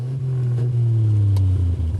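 A vintage Bentley 3½ Litre straight-six engine with its exhaust flaps open revs up with a deep, loud, close rumble that rises in pitch over two seconds.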